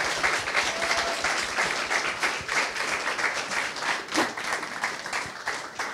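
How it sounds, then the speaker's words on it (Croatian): A studio audience at a game-show finale breaks into dense, sustained applause, many hands clapping together close by for the whole stretch without a pause. "velikim pljeskom pozdravite i Lorenu Birger"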